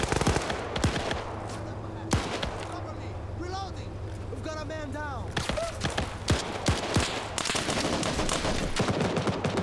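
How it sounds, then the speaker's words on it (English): Bursts of gunfire crack repeatedly over a steady game soundscape, with a few sharp shots and rapid volleys, while people talk over it. "Hearing some more gunfire here."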